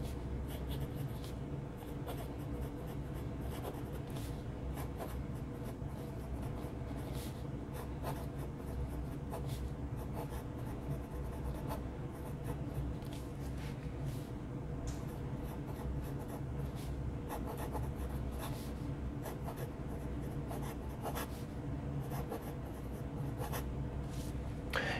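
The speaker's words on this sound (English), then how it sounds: "Do an actual writing sample here." A Wing Sung 3013 vacuum-filler fountain pen with an extra fine nib writes on paper, giving soft, close scratchy strokes in an irregular rhythm against a quiet background.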